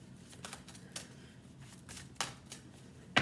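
Tarot cards being shuffled by hand, giving soft papery riffles and flicks in a few irregular bursts over a low steady room hum, the final flick loudest and close.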